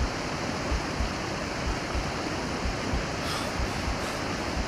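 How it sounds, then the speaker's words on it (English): Steady broadband rush of flowing water in the jungle survival game Green Hell VR, continuous and fairly close, with a low rumbling churn underneath and no voices. "I hear water. I hear lots of water."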